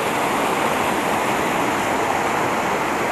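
A mountain stream rushes below a hillside path, a loud, constant broadband roar of flowing water that fills the whole moment without a break.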